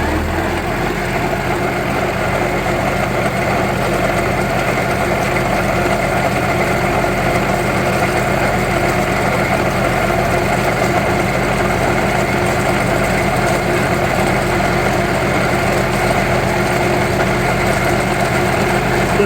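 A farm tractor idles with its haying mower's blades spinning, giving a steady, unbroken mechanical hum and low engine drone that holds at an even level for nearly twenty seconds, with no talking.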